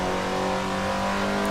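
A car engine drones in Assetto Corsa, a steady, loud tone holding at high revs over a short stretch with no voices.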